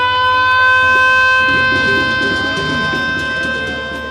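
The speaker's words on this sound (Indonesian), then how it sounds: "yang ditandai dengan penekanan tombol sirine" An electric siren sounds at the Hakteknas 24 launch ceremony in Bali, set off by pressing a siren button. It holds a loud, steady wailing tone throughout, with crowd and ambient noise rising beneath it midway.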